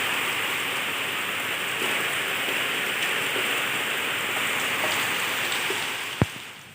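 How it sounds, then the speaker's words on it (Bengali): Heavy rain pours down in a steady, dense hiss close by, with a single brief sharp knock near the end. "প্রচণ্ড জোরে বৃষ্টি চলে এসছে,"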